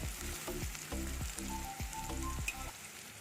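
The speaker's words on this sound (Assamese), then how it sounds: "পিঁয়াজখিনি অকণমান সময় ভাজিলোঁ, আধা মিনিটমান ভাজিলোঁ।" Sliced onions frying briefly in a pan for Assamese anguli pitha, a quiet sizzle under soft clinks and scraping as they are stirred, with no voices.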